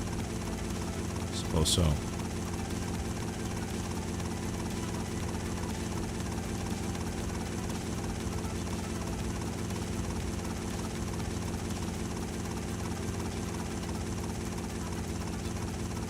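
A rescue helicopter in GTA Vice City Stories drones steadily throughout, a continuous rotor and engine hum with a brief voice heard near the start.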